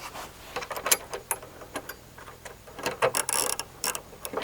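Close metallic ratcheting and clicking from an 8mm deep-well socket and a 3mm Allen wrench tightening bracket bolts on a GX470 during a wing install, in irregular bursts of sharp ticks with short pauses.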